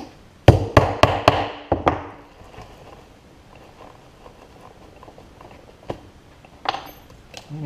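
A large nail is hammered through a cooler's Molle panel to punch a hole, heard as a quick run of five or six sharp, close metallic taps followed by quieter scattered knocks and handling sounds.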